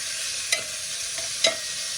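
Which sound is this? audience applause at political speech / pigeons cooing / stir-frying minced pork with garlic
stir-frying minced pork with garlic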